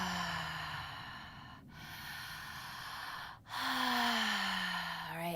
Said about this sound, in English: there's this orgasmic breath where you're breathing in and out through your mouth